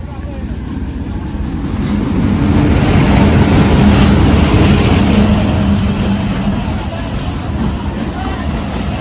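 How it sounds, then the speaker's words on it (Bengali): A heavy train near a village railway crossing in Khoksa, Bangladesh, rumbles slowly as it starts moving, its low roar rising steadily and swelling for several seconds before easing off, with people talking faintly. "ট্রেনটি চলা শুরু করছে দেখতে পাচ্ছেন আপনারা"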